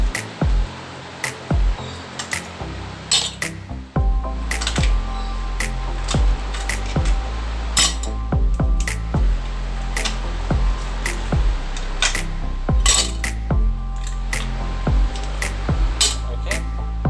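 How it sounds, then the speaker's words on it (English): Ice cubes dropped one by one into a tall glass for iced whipped coffee, giving sharp clinks and taps in an irregular rhythm, close and fairly loud against a steady low hum. "I'm going to add some ice cubes."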